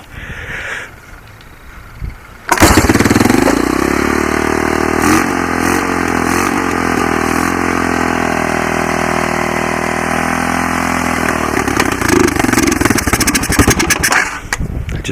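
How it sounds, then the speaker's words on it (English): An ATV engine fitted with a homemade 12V CDI is pull-started: after a faint tug, it catches abruptly and settles into a loud, steady close-up idle that runs on for about twelve seconds. "Now all I have to do is theoretically turn the switch on and pull the string."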